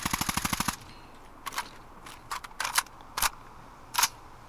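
Weapon handling for an Mk18 CQBR rifle in a Fallout 4 mod: a quick burst of rapid shots, then a series of sharp metallic clicks and clacks from magazine and bolt during a reload.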